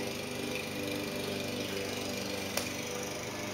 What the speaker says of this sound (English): It's just the lawnmower.